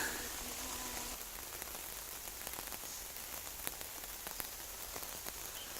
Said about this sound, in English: we're in a bit of a torrential downpour for a minute